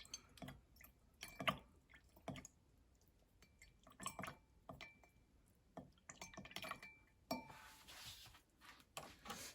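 A utensil stirs BTB indicator solution into tap water in a glass, producing quiet, irregular clinks and taps against the glass with soft liquid swishing between them and no talking.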